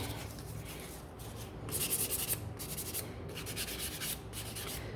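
A wooden door hanger is sanded by hand, producing scratchy rubbing strokes that come close and in repeated bursts, with a louder, rougher stretch in the middle. No one speaks.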